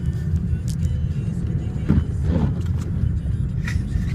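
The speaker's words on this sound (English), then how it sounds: "Seriously, I press the gas, and this thing just tries to go everywhere." A car engine rumbles and strains under throttle while driving on a slippery snowy road during a snow storm, a steady close low drone with occasional brief scraping noises.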